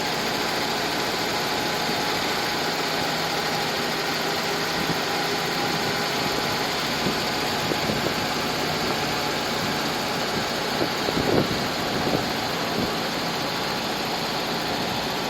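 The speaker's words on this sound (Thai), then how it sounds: "ให้ฟังเสียงห้องเครื่องก่อน เสียงแน่นๆค่ะ" A Hyundai Excel GLSi engine idles with a steady, close mechanical hum and faint rhythmic ticking from the open engine bay.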